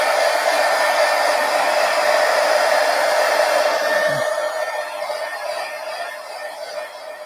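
A hair dryer blows steadily on puddles of ink on a drawing. Its strong, even whoosh stays close and constant, then gradually eases off toward the end. No one speaks.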